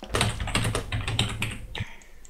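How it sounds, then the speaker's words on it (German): A computer keyboard hammered hard during a Trouble in Terrorist Town game session, a rapid cluster of loud, clacking keystrokes up close, ending with a final sharp strike. "Wer haut seine Tastatur so stark?"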